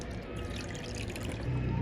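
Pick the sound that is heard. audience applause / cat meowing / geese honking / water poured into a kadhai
water poured into a kadhai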